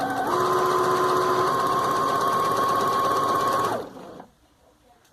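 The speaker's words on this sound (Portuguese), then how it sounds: "conforme eu vou costurando, ele já vai dando uma franzida" A sewing machine runs continuously for almost four seconds, stitching a straight seam without backstitching and gathering the fabric of a festa junina apron, then stops and leaves near silence.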